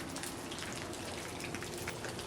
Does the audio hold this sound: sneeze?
no